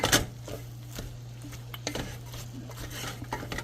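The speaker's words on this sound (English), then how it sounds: "You're going to give it a little bit of a stir, y'all." Spicy fried cabbage stirred in a pot with a spoon, a few soft scrapes and clinks against the metal over a low steady hum, fairly quiet.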